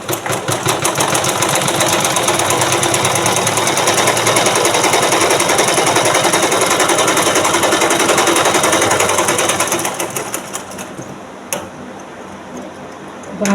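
Sewing machine stitching a blouse lining, its fast, even motor hum and needle chatter running loud and continuous for about ten seconds before winding down and stopping.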